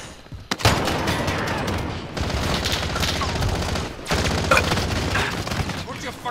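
Heavy automatic gunfire in the game Warzone, loud sustained bursts of rapid shots in three long stretches with brief gaps between them, up close, with players' voices talking over it.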